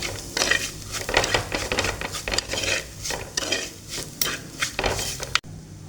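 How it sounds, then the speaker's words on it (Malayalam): Coriander powder, chilli powder and chicken masala are stirred in a cooking pot for chicken curry. A utensil scrapes and clinks against the pot in a steady, busy rhythm over a faint sizzle, close by, then stops abruptly. "നമ്മൾ ഇളക്കും"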